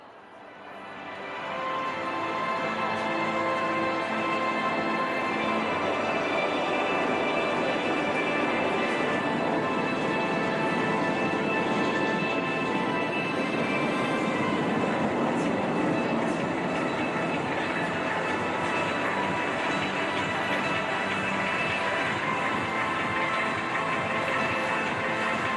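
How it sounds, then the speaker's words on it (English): Military jet aircraft in an aerial display over Marina Beach, Tamil Nadu, roar past in a loud, sustained broadband rumble that builds in the first seconds and holds steady throughout, with no talk over it. "here they go pulling up for the barrel roll"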